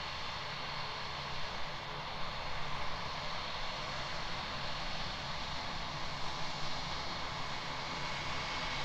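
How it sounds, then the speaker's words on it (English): An Airbus A320 jet approaching close at Christchurch Airport, a steady broad engine roar that fills the whole clip at moderate loudness without pause. "Airbus A320 is coming up close as well"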